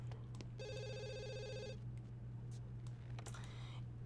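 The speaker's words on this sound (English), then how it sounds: "My Sims lines have never rang this much." A telephone in The Sims 2 rings with a rapid electronic trill for about a second, set against a steady low hum and scattered clicks; a brief second chirping tone follows near the end.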